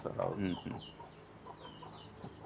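Native country hens on a farm cluck and chirp in short, uneven bursts, loudest at the start and then scattered and softer, with a voice briefly present among them.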